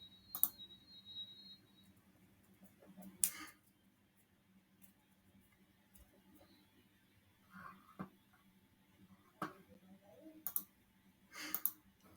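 A computer mouse clicks sharply a handful of times at irregular intervals, close and crisp against a quiet room hum.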